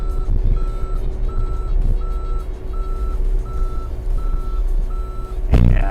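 A mini excavator moves on its tracks with a steady low engine rumble, under a loud, regular reversing beep that keeps repeating. A sharp clank comes near the end.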